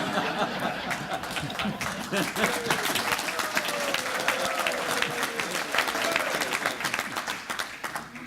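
Audience applause at a Rotary club meeting, a steady wash of many hands clapping throughout, fairly close and dense, with faint chuckles and murmurs mixed in.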